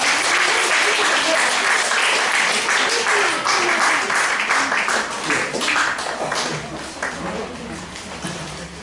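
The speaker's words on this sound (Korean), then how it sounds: "다시 한번 우리 아가들 잘 자라고 박수 한번 하겠습니다" A church congregation at Sindap Church applauds for its children, a full, dense wave of clapping that holds strong for several seconds and then gradually thins and fades.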